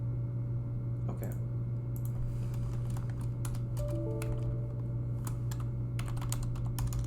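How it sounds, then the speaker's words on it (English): Typing on a computer keyboard while coding a Discord bot, a run of irregular light key clicks with occasional sharper taps over a steady electrical hum. "I don't need to keep typing this"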